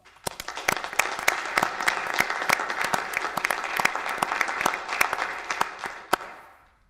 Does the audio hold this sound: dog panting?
no